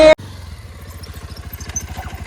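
A motorcycle engine idling close by, a steady low rhythmic putter of regular pulses that starts after a brief loud burst at the very beginning.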